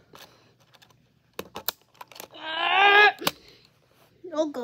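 Keycaps being pressed onto a Womier WK61 mechanical keyboard give scattered sharp plastic clicks and taps, with a voice talking briefly between them.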